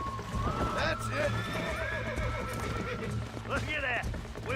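Horse being broken in Red Dead Redemption whinnies loudly several times over a low steady drone, with hoof clops and someone talking in the background.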